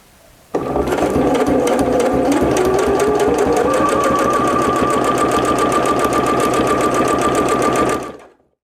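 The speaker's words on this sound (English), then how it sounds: "lower the needle right at the dart point and slowly start stitching your dart" Sewing machine stitching a fabric dart, starting slow from the needle point then running at a steady, fast rhythmic whir close up for about eight seconds, with no talking.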